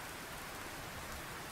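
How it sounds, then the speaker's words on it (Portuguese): Steady rain begins falling in a horror camping video game, a dense even hiss of drops on surfaces, low in level and continuous, with no speech. "A chuva começou."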